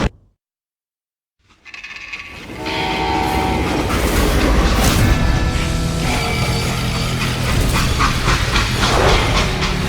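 Steam train in the Call of Juarez Gunslinger video game: after a brief silence, a loud rolling locomotive rumble swells with a whistle and rhythmic clatter of wheels on rails, continuing close and sustained.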